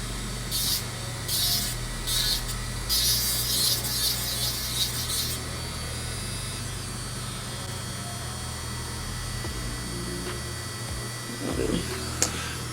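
An electric nail drill preps gel nails at home, giving rough, high-pitched grinding bursts in quick pulses for about five seconds before dropping back to a steady low hum.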